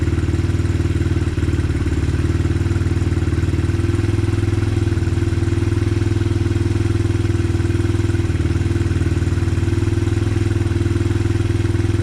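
A Honda XR 100 motorcycle engine with a newly swapped carburetor idles high and loud up close, a steady rumbling putter with even rapid pulses that barely varies throughout, alone without talk.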